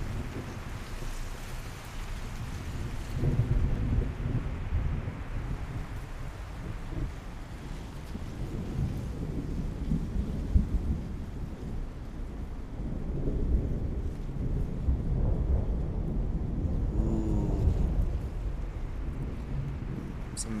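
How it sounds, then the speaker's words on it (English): Steady rain with rolling low thunder rumbles from a thunderstorm in the video game Tales of Iron, a continuous wash of noise with swells in loudness and no talking. "thunderstorm ASMR while we take stock of things"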